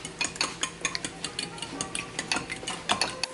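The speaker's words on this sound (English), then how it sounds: "I'm gonna whisk it." Fork or whisk beating eggs with milk, garlic powder, salt and black pepper in a bowl, a quick irregular run of light clicking taps close up, with no talking.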